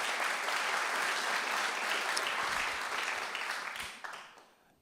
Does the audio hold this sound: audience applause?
yes